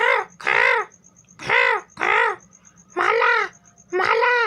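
A crow caws six times in a steady series of harsh, drawn-out calls, close and clear over a faint background hum.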